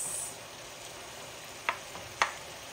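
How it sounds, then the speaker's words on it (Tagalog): Ground pork frying in a pan for pork empanadas, a soft steady sizzle with a couple of sharp scraping clicks from a utensil near the end, fairly quiet and with no talking. "hintayin natin na magluto yung ating ground pork"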